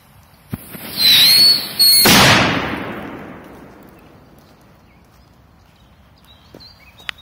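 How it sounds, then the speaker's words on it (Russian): A powerful firecracker bursts in one sharp, very loud bang outdoors, with crackling echo that fades over several seconds, followed by faint scattered pops and squeaks. "Довольно-таки мощная петарда."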